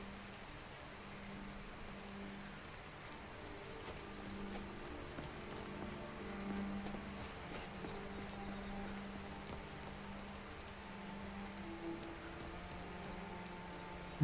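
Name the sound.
rain in a video game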